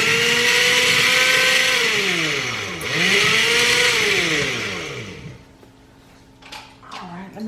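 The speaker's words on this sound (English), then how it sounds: "Let's liquefy that." A kitchen blender liquefies chiles with lime juice in a loud, close whirring roar whose pitch sags and recovers as the motor loads, then cuts off into quiet clatter.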